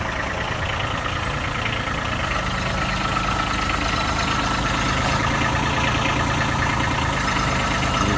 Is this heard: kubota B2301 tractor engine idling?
yes